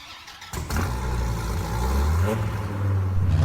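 A Dodge Viper drag car on slicks in a Southwest Florida driving game starts up and settles into a loud, lumpy idle, its deep engine note swelling briefly as the throttle is blipped.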